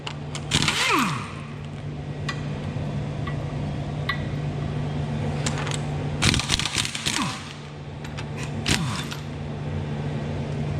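An air impact gun fires short bursts on car wheel nuts during front suspension arm bush work, with sharp rattling hits and clinks in a garage under a steady compressor hum.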